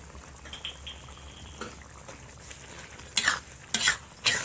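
Spicy eel stir-fries with holy basil and kaffir lime leaves in a pan: a faint sizzle underneath, then a few sharp scraping stirs and clatters near the end.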